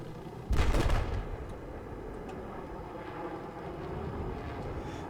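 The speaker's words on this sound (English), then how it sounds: "Here comes the plane." A plane roars past in a Battlefield 8v8 conquest match, a loud burst swelling in then fading into a steady distant drone with faint battle noise behind.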